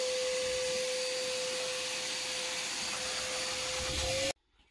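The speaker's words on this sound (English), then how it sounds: "And then I'm gonna vacuum all this up" A steady, loud vacuum whine runs unbroken at close range as it sucks up concrete drilling dust around a radon sump pit, then cuts off abruptly near the end.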